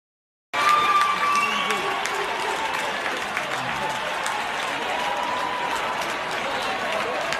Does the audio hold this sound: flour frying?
no